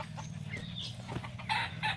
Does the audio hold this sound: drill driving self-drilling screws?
no